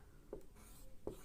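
Pen or marker writing an equation by hand, two short soft scratchy strokes separated by a pause, quiet and close.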